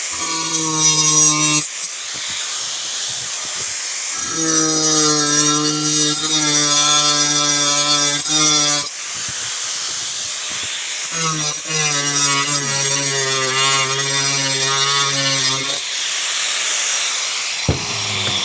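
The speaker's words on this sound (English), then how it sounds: "Grinder." A power grinder whines steadily in three long bursts with short pauses between them, loud and close, as it cuts pieces for a ledge on an HO scale model railroad.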